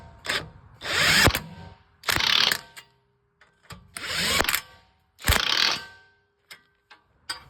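An impact wrench runs nuts down on the front strut of a 2019 Chevrolet Impala, firing in four loud close rattling bursts of about a second each, separated by short pauses and small clicks.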